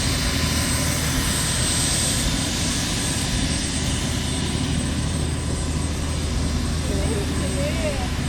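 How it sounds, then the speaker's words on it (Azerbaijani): A tour helicopter flying over Rio de Janeiro makes a loud, continuous rotor and engine drone that holds steady throughout, heard from inside the cabin. "Helikopter turuna."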